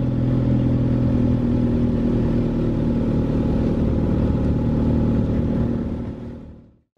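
A Willys jeep pulls away from a car park in the Cocora Valley near Salento, Colombia, its engine a steady, loud rumble with rattling clatter that holds for about six seconds and then cuts off abruptly.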